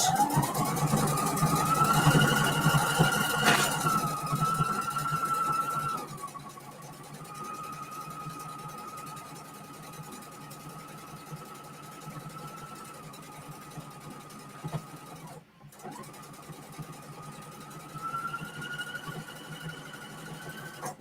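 A sewing machine fitted with a join and fold foot stitches fabric and lace. Its motor whirs steadily, louder and higher at first, then runs quieter with a short pause before speeding up again.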